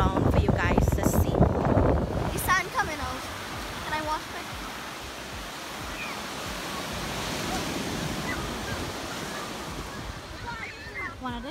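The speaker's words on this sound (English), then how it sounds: "Wanted to show you guys a shot of the beach." Waves wash onto the beach at Las Cuevas, Trinidad, a steady broad surf rush with some wind buffeting the microphone. A louder burst of voices and handling comes at the start before the surf settles.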